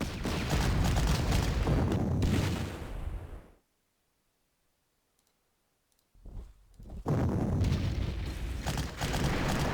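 Artillery fire in the Panzer Corps wargame: loud booming, crackling barrages fill the opening seconds, drop to near silence for a few seconds, then the heavy rumbling bursts return and carry on to the end.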